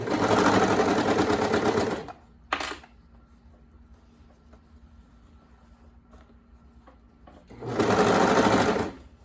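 A home sewing machine stitches a fabric leg seam on trousers in two loud, steady whirring runs at the start and end, with a quiet pause between where the fabric is realigned.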